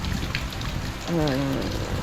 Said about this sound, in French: Le problème qui se passe, c'est qu'il pleut énormément